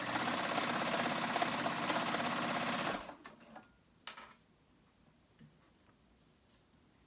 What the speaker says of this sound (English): I'm going to do the stay stitch all the way around the inside of the flounce